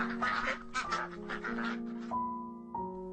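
Cartoon ducks quack in a quick series of nasal, buzzy calls, loud and close, ending in a couple of longer drawn-out quacks.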